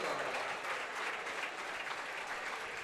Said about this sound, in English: A round of applause for the rest of the Buckette starters this evening.